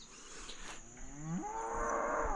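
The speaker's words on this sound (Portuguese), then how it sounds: "Ó a vaca chamando pra..." A cow gives a single long, loud moo that rises and holds on a farm field, near and alone with steady insect hiss behind it.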